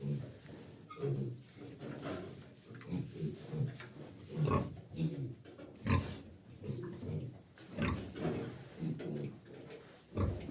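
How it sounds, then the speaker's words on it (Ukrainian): Several pigs grunt and snort close by in a steady stream of short, low oinks, with occasional higher squeals mixed in. "Поросятка сплять"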